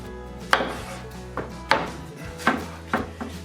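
Knife chops through smoked river catfish on a board, cutting it into steaks: five or six sharp, separate thuds spaced about a second apart over a low background hum, with no talking.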